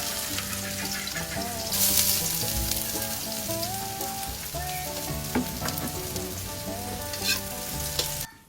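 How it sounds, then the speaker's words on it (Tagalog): Garlic, onion, ginger and sardines sautéing in hot oil, a dense steady sizzle with occasional stirring clatter, close and loud, cooked in a backyard setting with no voices. "nagpainit na ako ng mantika at ginisa ko na ang bawang, sibuyas, luya at sardinas"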